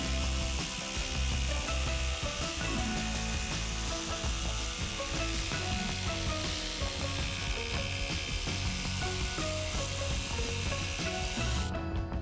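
Power sanding a thrifted wooden dresser during a furniture makeover, a steady dense grinding whir running continuously and loudly throughout with no talk, cutting off abruptly at the end.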